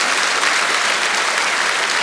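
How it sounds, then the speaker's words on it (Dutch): A crowd claps steadily in dense, even applause throughout, with no pauses. "U krijgt een applaus."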